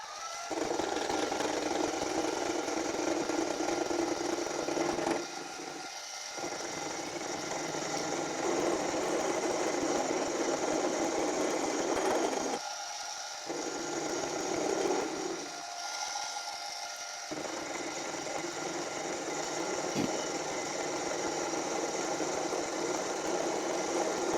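A machine tool skims the top face of a rear tool post base casting, a steady loud mechanical whir with a cutting hiss that drops out briefly a few times before resuming, with no talking.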